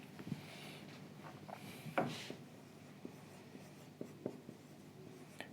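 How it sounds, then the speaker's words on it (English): Pen or pencil writing by hand on paper while working through math exercises, a soft continuous scratching with faint taps and one louder knock, close and quiet, no talking. "Silently I will write now."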